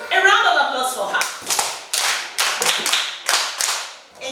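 Classroom of students applauding a classmate at school, with several rhythmic bursts of clapping in a repeated pattern after an opening moment of voices, fairly close and distinct.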